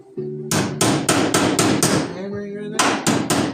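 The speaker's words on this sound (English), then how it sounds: "hammering in there" Hammer blows on the sheet-metal body of a 1977 Datsun B210 during welding repair, about ten sharp, evenly spaced strikes with a short pause midway, close and loud, with a ringing metallic tone between hits.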